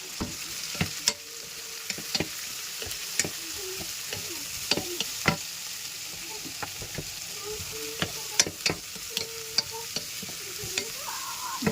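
Onions for a Kerala-style chicken curry sizzle steadily in a pan while a spoon scrapes and clicks through them in irregular strokes, close and fairly quiet, with no talking.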